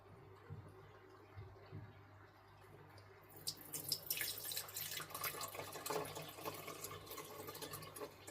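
Water poured from a shrimp dish into a low-tech, no-filter fish bowl for snails; after a quiet start, a steady splashing, trickling pour builds and carries on to the end, close and moderately loud.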